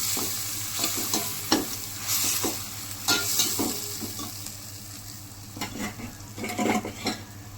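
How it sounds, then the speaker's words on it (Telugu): Mint leaves fry in hot oil in a pan, a steady sizzle broken by repeated scraping and stirring strokes of a spoon against the metal, close and moderately loud, with no talking. "ఇప్పుడు పుదీనా వేద్దామండి పుదీనా కొద్దిగా పచ్చి వాసన పోయిన దాకా వేపాలండి"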